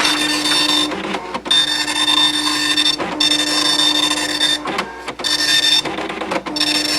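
A small printer connected to an Atari Portfolio handheld computer prints a page, making loud repeated buzzing mechanical passes of the print head, broken up by short pauses for line feeds.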